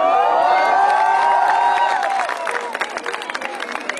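A concert crowd at a live Bengali music performance claps and cheers loudly, a dense burst of applause with whoops that thins out toward the end.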